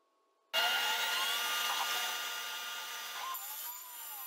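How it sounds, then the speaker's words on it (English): A CNC router cuts a back plate from half-inch-thick Padauk wood for a wooden gear clock, starting abruptly from silence into a loud, steady high-pitched whine with shifting tones as the bit moves through the wood. "Here the CNC router is cutting the back plate out of a 1/2 inch thick piece of Paduak wood"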